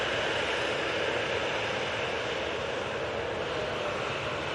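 A Ryanair airliner taking off from Manchester Airport on a flight to Rome, its jet engines a steady, broad roar heard from a distance without a break.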